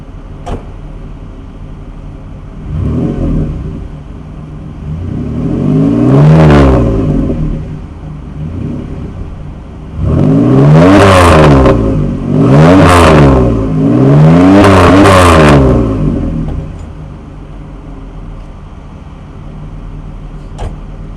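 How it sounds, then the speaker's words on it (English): 1997 Chevy Camaro engine idling near the microphone, then blipped in a series of loud revs: one early surge, a sharper one, then three quick rising bursts in a row before settling back to idle. "Let's give it a couple revs,"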